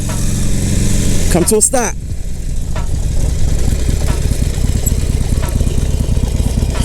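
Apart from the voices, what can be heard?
motorcycle engine running and idling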